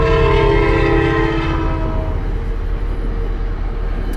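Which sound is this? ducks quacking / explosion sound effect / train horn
train horn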